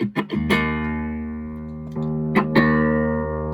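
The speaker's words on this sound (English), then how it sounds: "So that sounds very nice, yes. Tube screamer." Overdriven electric guitar chords through a Tube Screamer pedal ring out with warm, sustained distortion, a couple of strums letting each chord hang and decay, with no voices.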